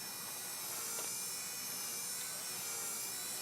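Radio-controlled model helicopter flying overhead on a calm, windless day, its steady high-pitched rotor and motor whine continuous and fairly distant, with no talking.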